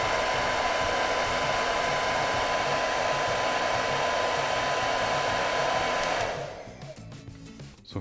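A Philips BHD006 hair dryer on its highest setting blows with a loud, steady close-up whoosh, then drops sharply near the end as it is switched down or off.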